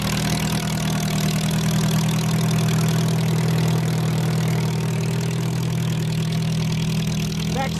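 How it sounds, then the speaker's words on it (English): A 1942 International M tractor engine idles steadily close by, a deep, even rumble with a faint mechanical knock that holds throughout. "Chester Morris is coming up with his 1942 International M"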